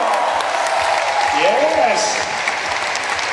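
Audience clapping swells in a loud burst at a corporate pharmaceutical directory event, and someone shouts an excited exclamation over it.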